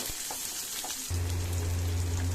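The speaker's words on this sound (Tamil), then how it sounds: "கருவேப்பிலை, எடுத்து வச்ச வெங்காயம் நல்லா வதக்கிக்கலாம்." Onions and curry leaves hit hot oil in a pan and start sautéing, a quiet tapping giving way abruptly to a loud, steady sizzle that carries on alone up close.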